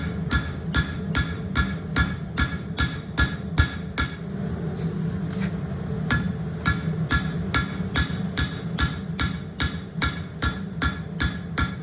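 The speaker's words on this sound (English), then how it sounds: "we're switching over to a different hammer. I can do a little more precise" Rapid, evenly spaced hammer blows ring out on a steel knife blade, a steady rhythmic pounding with a brief pause midway before the strikes resume.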